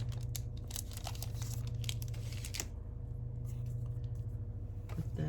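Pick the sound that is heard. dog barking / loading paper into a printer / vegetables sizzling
loading paper into a printer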